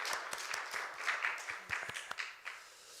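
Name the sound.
congregation applauding in church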